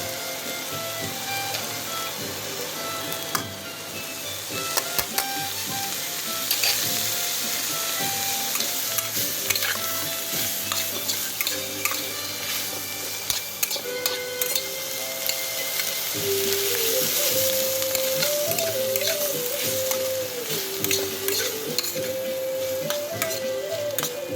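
Grated ginger frying and being stirred in a pan with mushrooms for pasta, giving a steady bright sizzle with scraping and clinking stir sounds throughout, moderately close and without talk.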